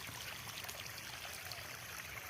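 Water flowing steadily into a flooded rice paddy field, a continuous soft trickling stream heard up close with no pauses or voices.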